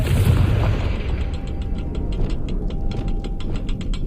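A Confringo fire spell blasts in the Hogwarts Legacy video game, a loud, sustained booming burst with crackling, ticking sparks running through it to the end.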